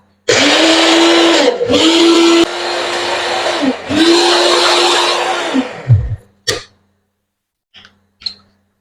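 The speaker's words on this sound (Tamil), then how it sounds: "இஞ்சியையும் வெள்ளப்புடையும் நல்ல பேஸ்டா அரைச்சு எடுத்துக்கொள்ளுவோம்" An electric kitchen blender grinds ginger and garlic into a paste in three loud, close bursts separated by short pauses. Faint clicks and knocks follow once the motor stops.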